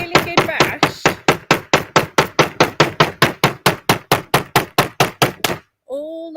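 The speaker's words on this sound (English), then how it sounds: "you take hammer, you make sure fingers are out of the way, and you just bash" A hammer bashes a leaf to print it outdoors, about two dozen steady, rapid knocks in an even rhythm, close and loud, ending with a brief voice.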